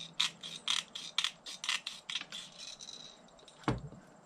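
Snipping a pre-formed wire screen pan cover for trapping coyotes and fox, trimming a small half-moon with cutters: a close run of about ten sharp metallic clicks in steady rhythm, then one louder snap, with no talk.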